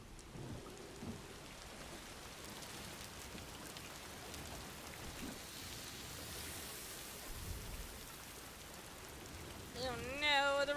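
Timefall rain in the video game Death Stranding 2, a steady hiss of rainfall with low rumbles like distant thunder throughout, a brief tonal game sound near the end.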